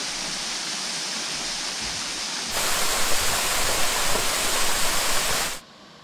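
Russell Falls in Mt Field National Park, Tasmania, pours with a dense, steady hiss of falling water that grows louder partway through before dropping away abruptly near the end, with no talk.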